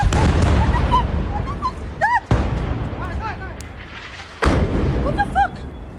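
Explosions from an Israeli strike on a Lebanese village, caught on CCTV, come as abrupt booming bursts over a constant rumbling roar, with voices crying out and a dog barking between the blasts.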